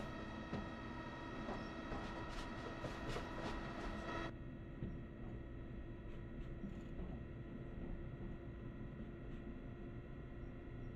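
Train running on rails in a train simulator game, a low steady rolling rumble with faint rhythmic clatter, accompanied at first by a tonal hum and chime-like whine that cuts out, then continuing as a quieter drone.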